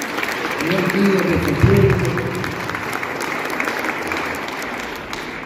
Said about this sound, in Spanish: Un aplauso para todas estas instituciones que le dan vida